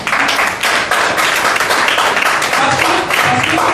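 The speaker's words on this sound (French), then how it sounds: "applaudissez d'abord avant que je continue." Loud, close applause from an audience of women at a presentation, with many hands clapping in a dense, vigorous, continuous burst and some distinct sharp claps near the front.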